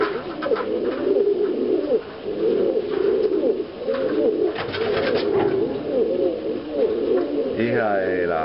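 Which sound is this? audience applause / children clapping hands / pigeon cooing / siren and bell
pigeon cooing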